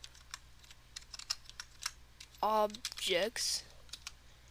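Keys clatter on a computer keyboard in quick, uneven bursts while entering a folder location for a Discord bot. A voice briefly speaks over the clicking partway through.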